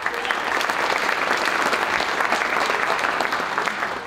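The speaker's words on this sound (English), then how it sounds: "Round of applause for them." Dense, continuous applause from a school winter concert audience honoring a varsity cheer team, loud and sustained throughout with no talking over it.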